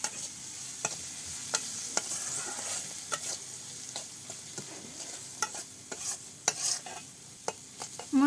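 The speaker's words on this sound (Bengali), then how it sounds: "আর মশলাগুলো ভালোভাবে কষিয়ে নিচ্ছে।" Spice paste with onion, green chili, turmeric, salt and chili powder being stirred and fried in a pan, with a steady low sizzle and repeated sharp scraping clicks of the stirring spoon, close and alone.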